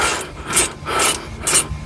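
A hand wrench ratchets bolts tight during brake pad and rotor replacement on a 2017 Ford Fusion, four close, rasping clicking strokes in steady rhythm with no talk.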